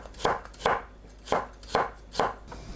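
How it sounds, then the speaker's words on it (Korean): A knife julienning carrot on a cutting board, with five sharp, evenly spaced chops about half a second apart. Each cut is close and distinct, and no one speaks. "당근도 곱게 채 썰어주세요."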